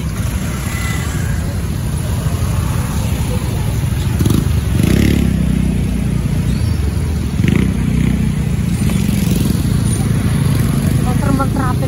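Motorcycles and other vehicles rumble through street traffic, engines droning continuously with occasional louder passes up close, while people chat nearby.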